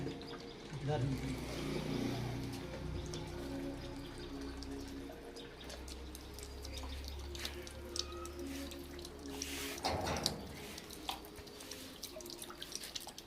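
Water poured and dripping for a small school water-saving project, a steady trickle running under continuous background noise with a louder splash near the end; faint voices murmur in the background.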